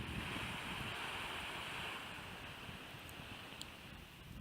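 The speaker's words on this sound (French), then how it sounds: "Vous voyez les vagues qui viennent se casser sur les rochers." Ocean waves crash against rocks along a high, rocky coastline with no beach, a steady, hissing wash of surf blended with wind buffeting the microphone, distant and faint, with no one speaking.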